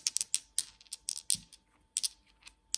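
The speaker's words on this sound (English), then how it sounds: "in this little dish, I've put the 2 metal dice that they sent me. I just wanted you to hear this sound." Two heavy metal dice rattle and clack inside a small dish, a quick series of sharp, bright clicks in irregular bursts with brief pauses between them.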